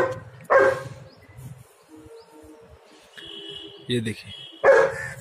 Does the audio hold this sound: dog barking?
yes